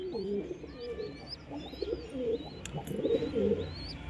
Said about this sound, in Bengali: তো চলো পায়রাগুলোকে আমি খাওয়া দাওয়া এখন করিয়ে দিই